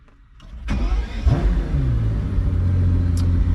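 A Pagani Huayra Roadster BC fires up with a sharp starter crank, then settles into a deep, steady idle rumble, close and loud, with no voices.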